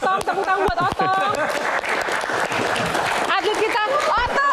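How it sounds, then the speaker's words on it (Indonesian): A studio audience claps loudly and steadily throughout on an Indonesian TV show, with cheering and a host's voice rising over the applause. "Tepuk tangan buat Otong."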